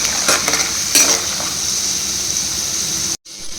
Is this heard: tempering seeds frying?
yes